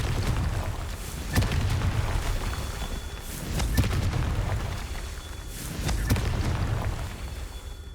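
Repeated booming blasts from the Confringo spell in the video game Hogwarts Legacy, three or four heavy explosive bursts at a steady interval over a constant low rumble.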